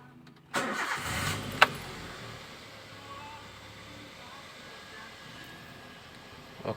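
A 2013 Toyota Rush engine cranks and fires, then settles into a steady idle just above 1000 rpm with a slight roughness, heard close up.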